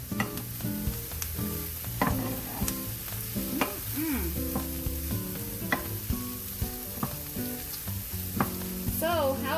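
Beans and franks cook down together in a pan, bubbling and sizzling softly under what sounds like background music, with occasional clicks and stirring noises.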